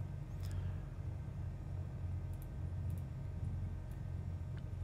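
Twin piston engines of a Piper Seminole PA44 in a flight simulator, idling at about 1,000 RPM while taxiing, giving a steady low droning rumble throughout with faint higher ticks above it.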